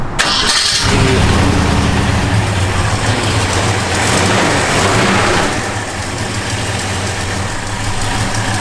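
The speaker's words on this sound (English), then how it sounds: "Car runs and drives" A 1966 Ford Fairlane 500 cranks briefly and fires up, then settles into a loud, close, steady idle with a slight drop in level partway through.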